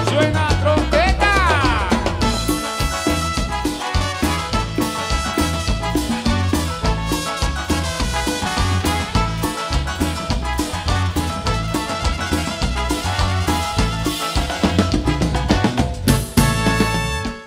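Trumpet playing with a live band at a show in Chichicastenango, loud and bright over a full, dense band mix of drums, bass and rhythm that carries on steadily throughout.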